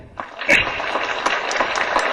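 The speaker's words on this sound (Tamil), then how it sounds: "நல்ல ஒரு கரகோஷம் கொடுங்க." Applause from a crowd at a Tamil movie audio launch event, a dense steady patter of clapping that swells after a brief start and holds for about two seconds, with faint voices mixed in.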